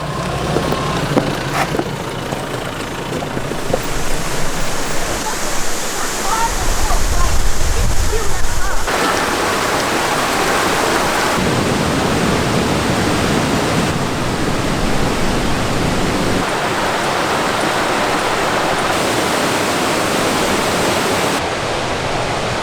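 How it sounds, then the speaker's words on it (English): A waterfall in the Grampians gives off a continuous rushing roar that shifts in loudness and texture, with brief talk mixed in. "Not too long and we're at the waterfall."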